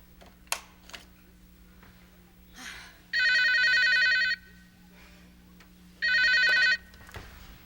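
An old landline telephone rings in a home late at night in two long bursts of electric bell trilling, with faint room sounds and brief knocks between the rings.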